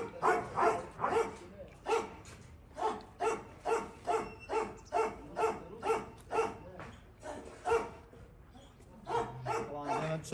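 Several dogs bark in a steady, repeated rhythm while attacking a calf, sharp yips and barks coming close together at moderate distance for the whole stretch, with some whimpering mixed in.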